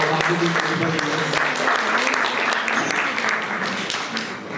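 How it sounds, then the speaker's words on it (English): An audience at the ICON BHARAT 2024 event applauds the SRIVT team, loud sustained clapping with sharp individual claps standing out, tapering slightly toward the end. "Let us applaud the entire team of SRIVT for completing 25 years."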